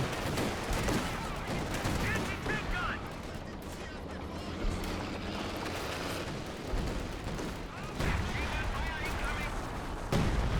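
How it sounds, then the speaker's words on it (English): Artillery in Company of Heroes 2 lands on a house amid a battle, with repeated booms and rattling gunfire scattered through a busy mix of game sounds, while a commentator talks over the action. "Just had their major artillery on the house."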